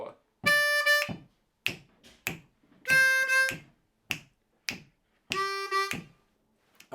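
Blues harmonica lick of articulated draw and blow notes, three bright sustained chords separated by short breathy huffs and taps, played alone in a steady counted rhythm.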